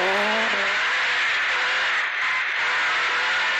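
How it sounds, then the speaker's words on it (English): A Volkswagen Golf rally car with a revamped engine is pushed at full power on a rally stage. Its engine gives a loud, continuous high-pitched roar, with a brief gear-change dip and some scraping as it drives hard. No one speaks. "Golf sounds magic in full flight, doesn't it?"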